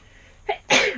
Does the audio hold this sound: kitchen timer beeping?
no